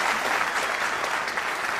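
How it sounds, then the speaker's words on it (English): An audience at a Rally of Hope gathering applauds, a dense, steady wash of clapping from many hands that holds evenly throughout. "Let us give another big round of applause to our beloved true mother, Dr. Hak Ja-han Moon, for her precious message."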